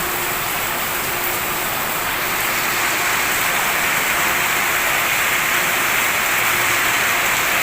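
Heavy rain pouring down in a sudden downpour under a dark sky, a loud, dense and steady hiss of water that fills the whole scene without letting up.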